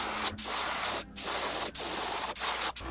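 Satin gold spray paint hisses from an aerosol can onto a channel catfish tailspinner lure in a close, steady series of short bursts broken by brief gaps.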